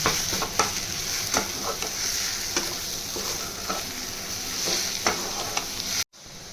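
Pointed gourd stuffing is stir-fried with sugar in a pan, a steady close sizzle punctuated by regular scraping strokes of a spatula, ending abruptly with a short break.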